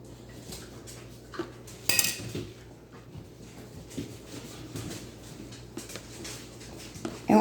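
A mixing bowl handled in a kitchen while making no-bake banana pudding, with scattered clinks and knocks of dish and utensil against a low hum, one sharp clink early and a louder knock at the end.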